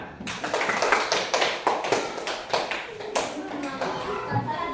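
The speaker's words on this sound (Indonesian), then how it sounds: "berikan tepuk tangan" A classroom of children claps in quick, uneven bursts, close and fairly loud, with faint voices mixed in.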